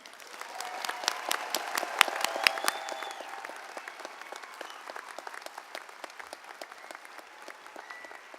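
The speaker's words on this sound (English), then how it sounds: "one last round of applause for the graduates" A large audience at a spring convocation in the Centennial Concert Hall gives the graduates a long round of applause, dense clapping that peaks early and slowly thins out.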